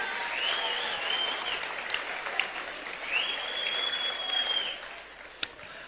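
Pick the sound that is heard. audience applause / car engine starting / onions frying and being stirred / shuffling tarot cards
audience applause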